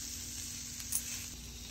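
Steak slices and asparagus sizzle on a Ninja Sizzle GR101 smokeless indoor grill and griddle, a quiet, continuous hiss of frying with a brief louder spatter midway, close up and alone.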